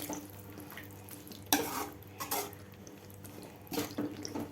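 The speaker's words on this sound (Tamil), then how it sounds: "கொஞ்சம் தண்ணி ஊற்றிக்கலாம்" Water is poured into a pan of cooking drumstick poriyal, with a few short splashy gushes and soft sloshing set against a quiet kitchen background.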